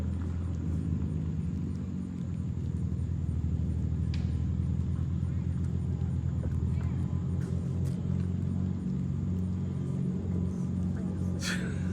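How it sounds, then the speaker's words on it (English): A car fitted with new MAD exhausts idles and runs with a deep, steady low rumble and a few faint clicks and knocks, continuing unbroken at moderate distance. "Thing sounds somewhat like his Camaro did with that deep tone."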